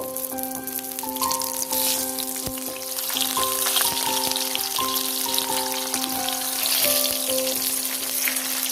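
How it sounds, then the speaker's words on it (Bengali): Leaf-wrapped hilsa pieces, freshly flipped, fry in a hot pan with a steady, crackling sizzle like light rain that grows slightly louder midway, with a sharp clack near the start and no speech. "এবার উল্টিয়ে অন্য পাশটা ভেজে নেব।"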